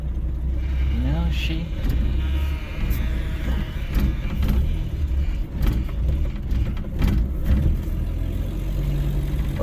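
A 61-year-old 1960 Rambler American car is driven with its engine running, a steady low mid-pitched hum with slight revving and road noise throughout, while someone talks over it.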